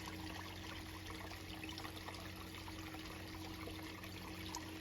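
Water trickles out of a small garden pond into two little streams, a faint, steady babble and dribble with a low constant hum underneath.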